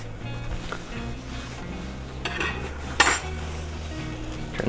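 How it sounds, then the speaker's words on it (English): A whisk working butter into a simmering red wine sauce in a pan, with metallic clinks and scrapes against the pan over a soft bubbling hiss, plus a sharper clatter partway through. "Whisk in some butter"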